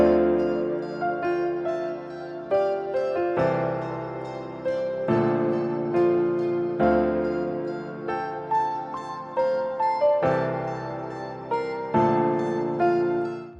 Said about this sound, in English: now that I've added my guitar on top of my piano, the full melody sounds like this.